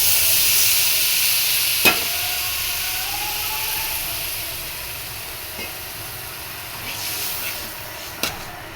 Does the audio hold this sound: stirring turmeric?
yes